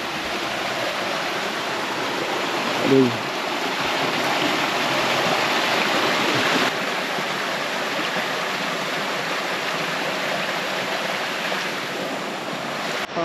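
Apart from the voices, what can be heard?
small stream being crossed on a hike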